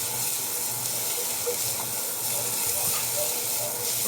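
Garlic and onion sautéing in a pan give off a continuous hissing sizzle, steady and fairly loud throughout, with no voices.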